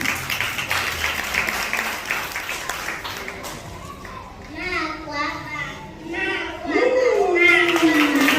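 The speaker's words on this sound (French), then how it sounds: "On applaudit les amis." Scattered clapping from a group at a nursery school end-of-year party blends with children's voices and chatter, then shouting and excited calls rise toward the end.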